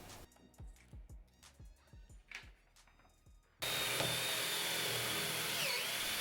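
A drill bites in short repeated bursts, each whine sliding down in pitch, followed by a loud continuous drilling roar that runs to the end.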